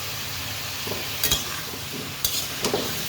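Pointed gourd frying in oil with salt and turmeric, a steady close sizzle running throughout, broken by a few sharp clanks and scrapes of a utensil stirring against the pan.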